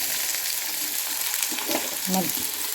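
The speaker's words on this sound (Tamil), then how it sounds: "இப்போ நம்ம நறுக்கி வச்சுருக்க வெங்காயம் நல்லா சேர்த்துக்குவோம்" Chopped onions sizzle and crackle steadily in hot oil while cooking a spicy gravy, a continuous frying hiss with a few stirring sounds.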